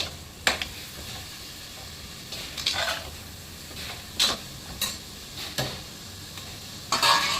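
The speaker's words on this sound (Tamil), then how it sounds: "இஞ்சி பூண்டு பேஸ்ட்டு புதினா எல்லாம் வதங்கி வந்துடுச்சு" Ginger garlic paste and mint sauté in a pan for vegetable biryani, under a steady soft sizzle. A spoon scrapes and stirs in several brief strokes over it, close up, and nobody speaks.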